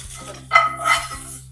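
Tomato is sautéed in a pan for a South Indian garlic tamarind curry; a metal spatula clinks and scrapes against the pan in two quick, close strokes over a faint background.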